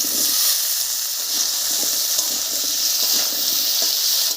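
Cut potatoes land in a pan of frying tomatoes and peas for a Bengali paneer cauliflower-potato curry, giving a steady, loud, close sizzle with a broad hiss that holds evenly throughout, with no talking.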